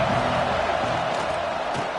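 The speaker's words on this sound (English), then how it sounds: "This crowd ready to make its presence known." A football stadium crowd roars in a steady, dense wash of cheering and shouting from many voices.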